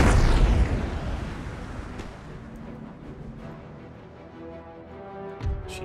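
A ship's starboard cannon battery fires in the Empire: Total War naval battle, opening with a heavy booming broadside that rolls away into a long fading rumble, followed by a lighter report near the end.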